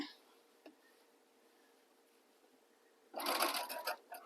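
A sewing machine runs fast and steady, stitching a seam down the center back of a pair of pants, starting suddenly after a quiet pause and continuing up close.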